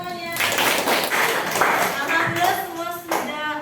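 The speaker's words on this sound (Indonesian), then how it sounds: "Oke, tepuk tangan semuanya." Classroom students clap their hands together in a brief burst of scattered, uneven claps, with a teacher's voice talking over and around the clapping.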